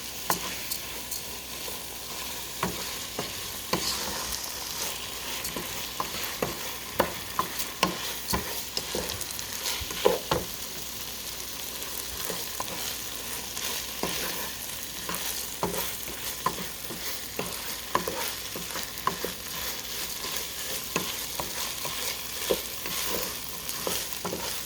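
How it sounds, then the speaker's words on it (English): Rice and beans being stirred in a frying pan: a continuous low sizzle with repeated scraping and clinking of a utensil against the pan at an uneven rhythm, close and moderately loud. "Mix this up real good."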